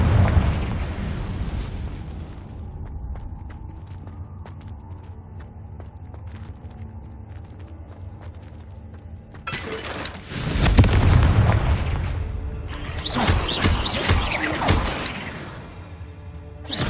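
The Confringo fire-blasting spell in Hogwarts Legacy explodes in heavy booming blasts, one big burst followed by a second cluster of crackling explosions, loud and close after a quieter low rumble.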